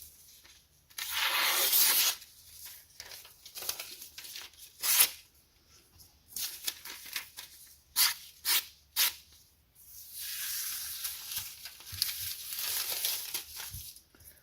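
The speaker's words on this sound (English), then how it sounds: "You can see just no resistance going through this phone book paper." A Demko AD-20.5 knife slices through thin phone book paper in repeated long hissing tearing strokes, broken up by short crinkling cuts and brief pauses, close and fairly loud, with no talking.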